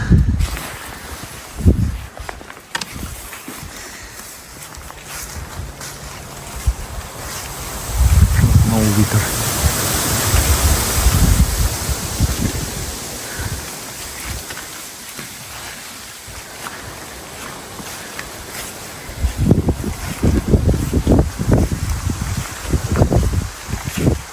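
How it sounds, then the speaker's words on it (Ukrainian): Strong gusts roar through a Carpathian forest on a wet autumn day, a broad rushing and buffeting that swells and fades with low microphone rumble, with a voice talking in places. "Сьогодні дуже вітряна погода, друзі."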